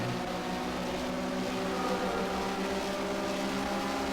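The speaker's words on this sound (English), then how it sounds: "You can hear us reaching the rev limiter at the end of the straightaway there." A Porsche Mobil 1 Supercup race car at Catalunya in the Race07 video game holds its engine at high revs, a steady, buzzing, harmonic drone with no talk.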